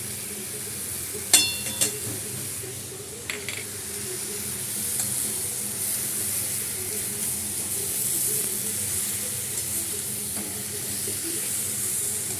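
Meat frying in mustard oil with onions, turmeric and chili powder, giving a steady close sizzle and hiss with a couple of sharp utensil clinks and scrapes from stirring early on.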